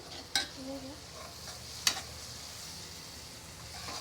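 Onions frying in a pan for beef biryani give off a faint, steady sizzle, broken by two brief sharp scrapes of a utensil against the pan.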